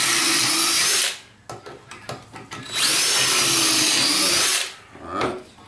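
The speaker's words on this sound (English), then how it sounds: "I almost drilled right into the kerf" A power drill bores into the wood of a farmhouse table: a long, loud whining run, then a series of short stop-start bursts, another sustained run, and a brief final burst, close up with no talk.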